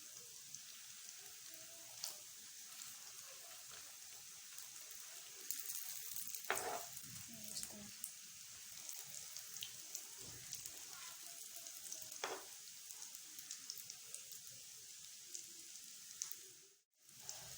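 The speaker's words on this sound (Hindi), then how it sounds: "देखिए इस तरह से बहुत कम ऑयल में फ्राई होते हैं ये" Chicken potato rolls frying in a shallow layer of oil, a steady soft sizzle with occasional crackles and pops, close and continuous, with no talk.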